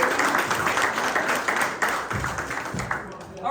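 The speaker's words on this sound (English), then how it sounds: "give him a round of applause" An audience giving a round of applause at a live church event, a dense wash of clapping that carries on steadily for a few seconds, with a voice audible over it.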